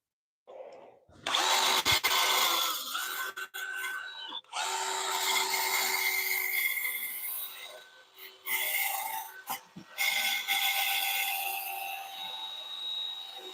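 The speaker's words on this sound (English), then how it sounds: "Let the sander do all the work." A power sander whines steadily at close range on wood, its buzzing pitch dipping briefly a few times as it moves over the surface, with no talking.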